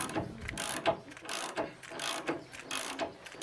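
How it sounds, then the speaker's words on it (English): Puller lifting a part off a 1980 Land Rover Series 3 109, giving repeated ratcheting clicks in an uneven rhythm, close up and fairly quiet, with no voices. "I can now use a puller to lift it the rest of the way off"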